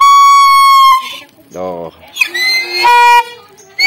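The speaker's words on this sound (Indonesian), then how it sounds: "Nah, ini hasilnya bisa menjadi suara mobil, klakson mobil bis." A homemade trumpet made from a used thread spool and plastic, blown like a bus horn, giving loud, sustained, buzzy toots with a short break in the middle and a brief spoken word between.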